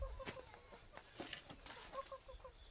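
Chickens cluck softly and repeatedly at a farm, a faint, busy scatter of short calls set against quiet outdoor background noise.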